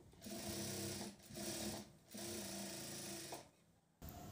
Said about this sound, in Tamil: இப்போ 2 சைடுமே நான் வந்து ஸ்டிச் பண்ணி முடிச்சிட்டேங்க.